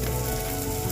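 Chopped onions fry in a clay pot with a dense, continuous sizzle that crackles loud and close throughout the brief moment, with no voices.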